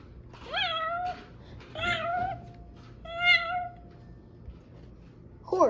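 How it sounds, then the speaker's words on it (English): A cat meows three times in a row, clear and close, each cry a drawn-out, rising-then-falling mew separated by short pauses. "Cat."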